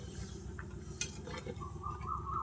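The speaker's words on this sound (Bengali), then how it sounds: "দেখছেন আপনারা তরকারিটা ফুটছে।" Okra and potato curry bubbling in a pot, a low steady simmering burble with a faint clink partway through, no talking.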